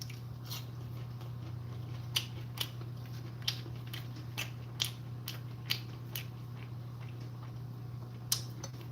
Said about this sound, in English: I'll crunch one for you up close on this phone mic